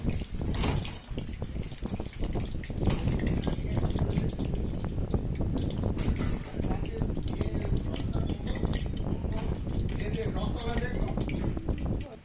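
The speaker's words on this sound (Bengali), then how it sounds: "আর ঠিক একইভাবে চিকেন পকোড়াগুলো ভেজে নেব" Chicken pakoras deep-fry in hot oil over a low-to-medium flame, a continuous bubbling crackle and sizzle close by, with a voice talking over it throughout.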